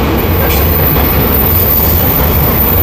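Loud, close train rumbles past in a dense continuous roar of wheels and cars on the track, filling the whole moment with no talk.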